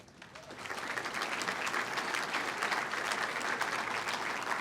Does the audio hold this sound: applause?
yes